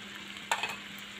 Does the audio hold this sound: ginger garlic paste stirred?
yes